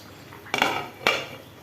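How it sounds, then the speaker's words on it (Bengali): A lid goes onto a cooking pot with two sharp metallic clanks about half a second apart, close by, over a quiet background. "ঢাকনা দিয়ে দিব।"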